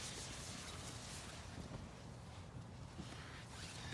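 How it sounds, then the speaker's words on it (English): Steady outdoor wind buffets the microphone at a campsite beside a converted Toyota Sienna camper, a continuous low rumble and broadband rush with no pauses and no voices. "You said today it's kind of windy, right?"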